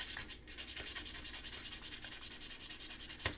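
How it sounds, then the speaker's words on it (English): Rhythmic, quick back-and-forth rubbing of sandpaper on the back of a small hard charm, close and fairly quiet, with steady strokes throughout. "So I'm just sanding the back."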